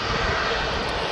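Engine of an Airbus A220-300 at Birmingham airport, a loud, steady, continuous roar filling the whole moment without a break.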